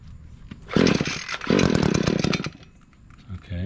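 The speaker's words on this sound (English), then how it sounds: "the pole saw, which is the PPT 266" An Echo PPT 266 pole saw's small two-stroke engine sputters to life, revving in two loud, rough bursts before dropping to a choked, uneven idle, with voices talking nearby.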